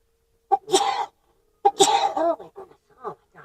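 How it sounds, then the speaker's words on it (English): Two close, sharp sneezes with breathy intakes before each, followed by a few smaller throaty sounds and sniffles. "now I gotta sneeze"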